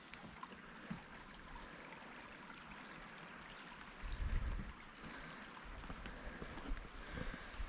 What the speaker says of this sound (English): Wow, the water's so crystal clear there in that little stream.